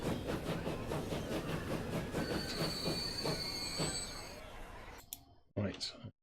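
A train in the Transport Fever video game rolls along its rails with rhythmic clickety-clack wheel beats and a steady rumble, squealing wheels rising midway before the noise cuts off and a voice speaks briefly.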